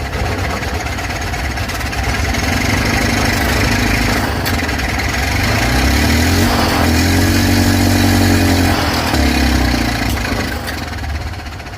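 A golf cart truck engine runs steadily on its own after a carb cleaner start, a continuous loud mid-pitched idle that rises slightly in revs near the middle before settling back.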